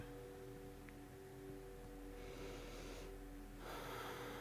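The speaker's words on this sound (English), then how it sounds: "we're gonna start to do some deep inhales and exhales here" Deep breathing during a yoga session, with slow, faint inhales and exhales of air sounding close to the microphone in a quiet room, over a low steady hum and no talk.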